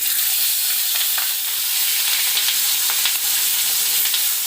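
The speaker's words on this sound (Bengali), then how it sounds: "গরম হয়ে গেছে, এবার আমি মাছগুলো দিয়ে দেব।" Bata fish frying in hot oil in a wok, a loud, dense, continuous hiss of sizzling oil with small crackles and occasional stirring scrapes, close up and with no voices.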